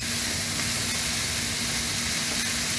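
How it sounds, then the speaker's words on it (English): Butter sizzles and steams on a hot grill beside trout and vegetables, a steady close hiss running unbroken throughout with no talk. "This butter that I'm putting on here is going to give just a little bit of steam and a little bit of flavor to the fish"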